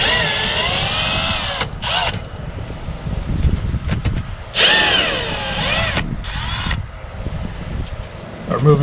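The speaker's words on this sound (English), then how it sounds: "Removing these screws so I can remove the siding that's behind it." A power drill backs screws out of the siding around an outdoor outlet, whining up and down in several bursts close to the microphone, with wind noise and some rustling between runs.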